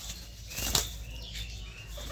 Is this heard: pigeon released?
yes